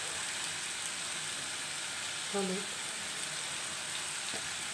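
Ground spices with salt fry softly in oil for a vegetarian aloo dum, a faint even sizzle with a single brief stirring scrape near the middle.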